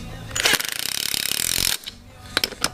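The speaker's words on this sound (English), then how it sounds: "Got our impact on this side. Go ahead and tighten it down." A close impact wrench tightens a bolt on a GoPed front wheel, a loud rapid hammering rattle for just over a second, then a few sharp clicks and knocks as it stops.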